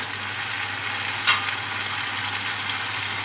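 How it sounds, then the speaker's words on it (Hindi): Garlic and ginger frying in a pan over softened onions, a steady close sizzle with bright crackling throughout and a brief sharper spatter near the middle, no talking. "इसमें लहसुन अदरक डाल दूंगी।"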